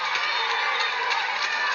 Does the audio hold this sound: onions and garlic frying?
no